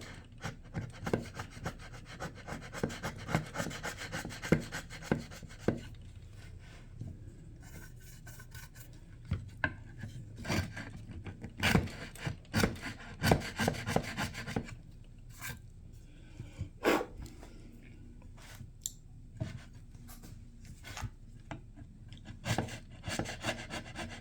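Sharp chisels pare and scrape at wood close by, with irregular rasping strokes, scratchy rubs and occasional sharper taps over about twenty seconds, no voices.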